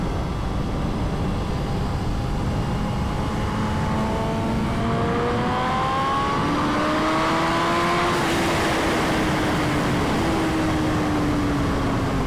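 A BMW S1000RR sport motorcycle rides through farmland, its engine whining and rising through gears under a constant rush of wind noise, loud and close throughout.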